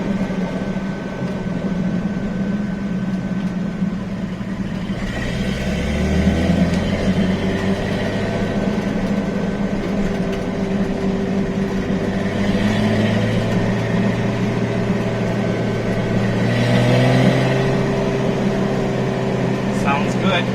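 A 1973 Datsun 240Z series 2 engine runs with a steady low drone, rising and falling as it revs through second gear, close and continuous, with brief speech over it.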